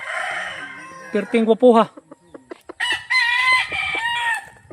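A rooster at a rural Philippine farm crows up close in a strained, rising call, followed by clucks and more crowing, while someone talks over parts of it.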